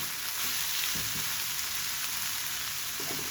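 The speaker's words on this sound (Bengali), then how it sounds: "রান্না ভাজাটা প্রায় হয়ে এসেছে আর একটুখানি ভাজা ভাজা হলে আমি নামিয়ে" Steady, loud sizzling of bottle gourd peel, potato and carrot frying in a pan fills the whole stretch, a dense hiss with faint stirring clatter, no voices.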